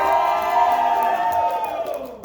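A convention crowd at AwesomeCon cheers and whoops loudly together in a sustained burst of voices to cast a vote, then tapers off.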